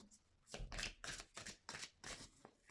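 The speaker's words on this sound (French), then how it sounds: "je vais disposer les cartes et vous allez faire votre choix comme ceci" Oracle cards being handled and laid out: soft, close papery swishes in about five rhythmic bursts, quiet, with no voice over them.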